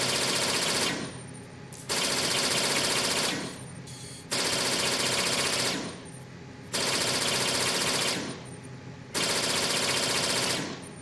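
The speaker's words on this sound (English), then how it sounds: "That is a severely undergassed M4." Bursts of M4 rifle fire from the video game Metal Gear Solid 2, with a weak, undergassed quality. Loud, rapid automatic volleys recur in roughly two-second strings, separated by brief pauses.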